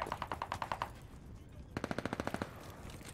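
Two rapid bursts of automatic gunfire in the video game Call of Duty: Vanguard during a ranked hardpoint match, each a quick string of evenly spaced shots, loud and close over a busy game background.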